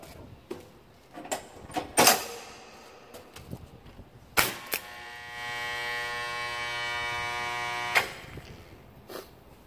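Nippon Electric BFL-35 flash butt welder test-joining 3/8-inch (10 mm) steel bars at setting six: sharp crackling bursts, then a loud steady electrical buzz with strong harmonic hum lasting several seconds before cutting off abruptly.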